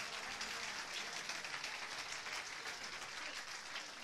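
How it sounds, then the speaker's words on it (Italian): Steady applause from a crowd, dense clapping that holds at an even level throughout without a break. "fatevi un applauso"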